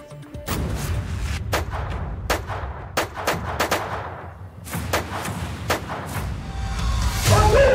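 Rapid gunfire sound effect from a news report about a house shooting in Bareilly: loud repeated shots in bursts over a steady rumbling background, with no voices.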